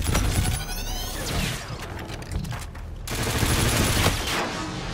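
Sustained heavy gunfire from a gun-run airstrike in the sci-fi shooter Infinite Warfare during team deathmatch, a dense roaring barrage with crackling impacts and shattering debris running nearly the whole time, loud and close, no talking.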